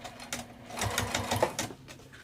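A sewing machine stitches along the edge of a fabric wristlet in a short close burst, its quick rhythmic needle thumps starting softly and then speeding up.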